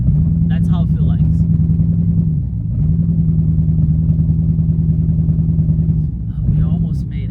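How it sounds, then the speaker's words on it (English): A Corvette engine idles and drives loud and close with a rough, uneven low drone, as if firing on one cylinder, dipping briefly between two steady stretches while a voice speaks faintly over it. "It seems like it's working on one cylinder."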